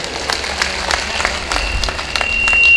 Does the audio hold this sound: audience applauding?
yes